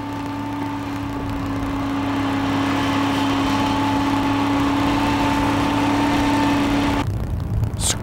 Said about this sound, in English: Scrapers pick up dirt underneath their chassis and unload it at another spot.